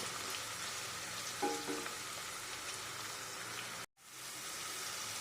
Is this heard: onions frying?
yes